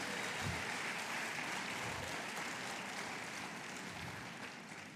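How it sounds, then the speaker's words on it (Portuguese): Congregation applauding during a church sermon, a steady wash of clapping from many hands held at an even level for the whole stretch and fading slightly at the end. "Aplauda o Cordeiro, ele venceu na cruz"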